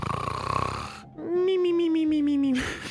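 Remo, apparently a pet, gives a drawn-out nasal snore lasting over a second, loud and close, with a wheezy buzzing tone, and voices sound before it.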